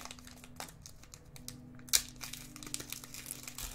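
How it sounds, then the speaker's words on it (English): The crinkly foil wrapper of a Panini trading card pack is torn and crumpled open up close. The crackling is quiet and continuous, with one sharp rip in the middle, and a faint steady hum sits underneath. "Now you have to completely undress your cards to get them out safely."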